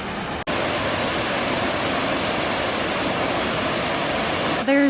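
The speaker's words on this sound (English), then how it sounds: "There's the moving waterfall that's incredible" Pratts Falls in early spring, with meltwater pouring down as a steady, loud, close rush of broadband noise that carries on without a break, and a voice briefly heard near the end.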